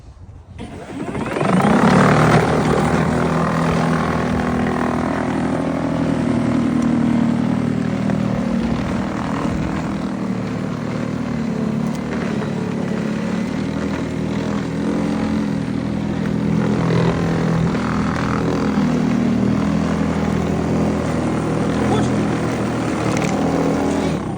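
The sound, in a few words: Westinghouse battery powered 48-volt push snow blower running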